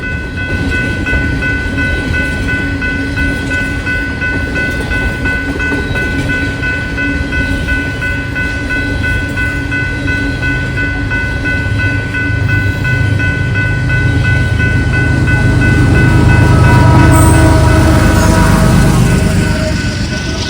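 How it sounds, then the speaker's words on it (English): A Norfolk Southern coal train hauled by several locomotives, including mid-train distributed power units, rolls past loud and close, with a continuous heavy rumble and wheel clatter that swells toward the end. "777 and its counterpart train 776 are usually monster coal trains, as it usually takes a lot of locomotives to pull them."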